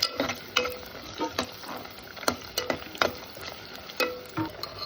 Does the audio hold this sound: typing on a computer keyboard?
no